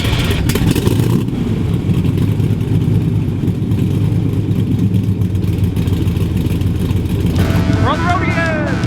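A Corvette engine revs and rumbles loudly and steadily as the car pulls away, with a thin whistling squeal rising near the end.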